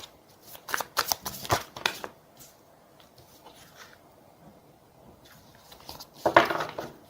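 Tarot cards are shuffled and drawn in two bouts: a run of crisp riffling flutters, a quiet pause with soft handling, then another quick shuffle, all close and without talking.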